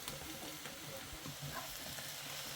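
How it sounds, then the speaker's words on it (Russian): Mushrooms fry quietly with onions in a pan with a steady, soft sizzle and faint crackling. "жарим, пока не выпарится вся влага с грибов"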